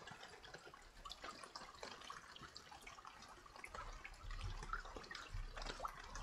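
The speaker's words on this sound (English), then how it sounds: "let's gather some more water while we can" Water trickles and splashes into containers in the video game Escape the Pacific, a faint, continuous wash of liquid noise with small drips and gurgles and a slightly heavier rush near the end.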